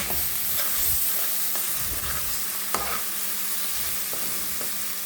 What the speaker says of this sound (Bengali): চিকেনের মশলা কষানো হয়েছে